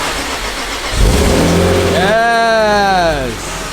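A Honda Civic engine cranks and fires up, with a short burst of noise, then a rising rev that settles into a loud, close idle, and people talking over it.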